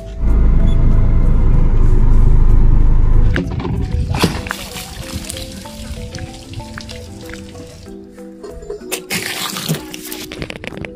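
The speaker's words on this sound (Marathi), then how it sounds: "गाडी धुवायची आहे." Water gushes loudly onto a car being washed in a village farmyard, then gives way to sloshing, dripping and scattered splashes as the washing goes on.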